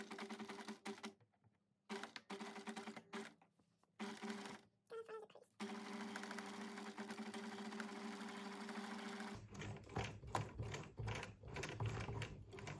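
A sewing machine stitching a handmade beach bag: bursts of rapid mechanical clatter that start and stop, then a longer steady run, close and clear, with a few quiet pauses between passes.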